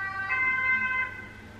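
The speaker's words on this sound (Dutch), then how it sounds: "Oh, ambulance." Ambulance siren wailing in a residential street after an accident, a short, moderately distant tone that swells and then fades, with no talking.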